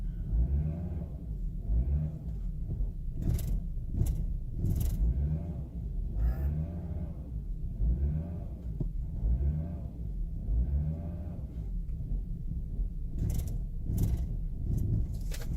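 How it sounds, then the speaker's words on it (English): A 2008 Volvo S60 with a reduced engine performance fault runs steadily nearby, a continuous rumbling engine with a few brief rev-like swells and sharp clicks, no voices. "Now I'm going to try to turn it on, see what happens."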